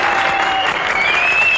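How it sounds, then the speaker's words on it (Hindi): Loud crowd applause rings out for a daring stunt performer at a live show, a dense steady wash of clapping filling the whole moment. "इस मर्द के लिए बजाओ एक बार जोरदार ताली।"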